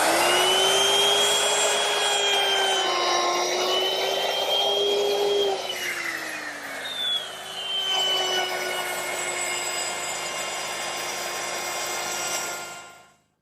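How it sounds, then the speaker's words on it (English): A router fitted with a rabbeting bit cuts a rabbet along wood for a library table, a loud sustained whine that shifts pitch as the load changes mid-pass, then steadies and winds down at the end. "I'm going to use my router with a rabbeting bit"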